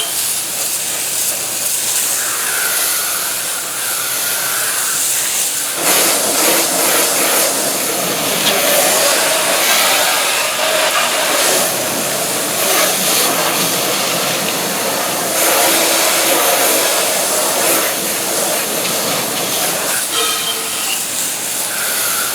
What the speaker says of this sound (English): So I'll let it sit there for about 30 or 40 seconds and then I'll rinse it off.